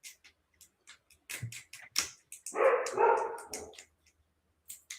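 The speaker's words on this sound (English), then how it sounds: "somebody else with dogs that bark" Dogs bark in short, sharp bursts during a live stream, a quick run of near, loud yips and barks with a denser volley in the middle before the barking trails off.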